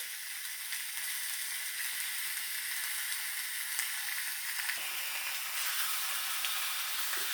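A ribeye steak sizzles in a hot pan, giving a steady, dense crackling hiss that stays loud and even throughout, close up, with no talking.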